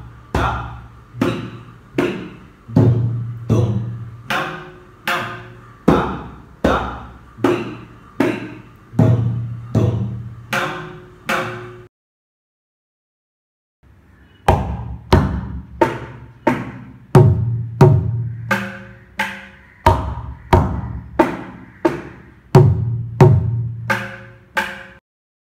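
Mridangam strokes from a beginner lesson ring out in fast, evenly spaced, resonant hits, a long sequence, a short pause, then another run at close range, with no voices.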